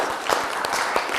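In a TV quiz show studio, the audience gives a short burst of steady applause with a few sharper clapping accents, heard at close range.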